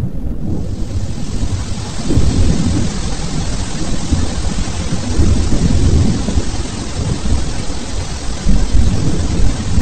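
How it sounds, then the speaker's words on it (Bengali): A heavy thunderstorm: thick, constant rain hisses while deep thunder rumbles roll underneath in waves, loud and close throughout, and no one speaks. "বাইরে প্রচুর বৃষ্টি হচ্ছে"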